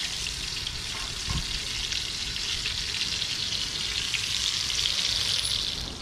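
Small snakehead fish nuggets fry in a hot pan, giving a steady, close hiss of oil that stays even and continuous throughout, with no talk.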